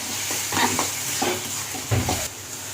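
Tomato and spices for malai chicken sautéing in a pan, a steady sizzle broken by several scraping stirs of a spatula, close and clear with no talking.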